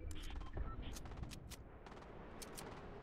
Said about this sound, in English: someone's under him shooting him right now